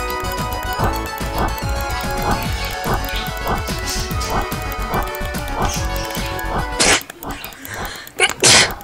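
One sharp, loud burst near the end of a stretch of busy game music and rhythmic thumps, close by; a second forceful burst follows moments later.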